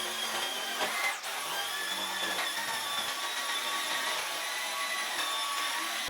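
Dyson vacuum cleaner running over a mattress, a close, steady high-pitched motor whine and rushing airflow held throughout with small shifts in tone as the head moves, no voices.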